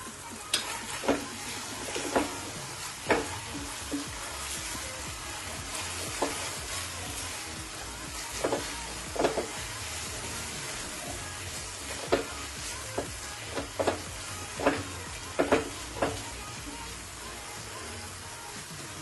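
Paneer, capsicum, onion and tomato are stirred in a frying pan, with a spoon scraping and clacking in irregular bursts over a steady low sizzle throughout.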